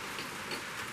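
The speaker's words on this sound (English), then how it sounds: "it has actually started raining" Steady rain falls outdoors on a wet day, a soft broadband hiss of drops that stays even and fairly faint throughout with no talking.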